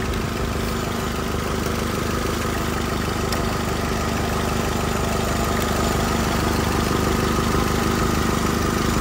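Car engine idling while an AC recharge hose is connected, a steady loud rumbling drone that continues unchanged throughout with no voices.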